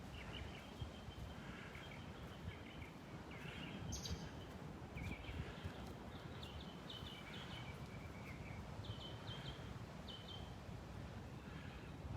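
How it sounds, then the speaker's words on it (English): Faint dawn birdsong with repeated short chirps and trills over a steady low wind-like rumble on a beach in Naples, Florida, heard at a distance with no one talking. "But listen to the birds singing."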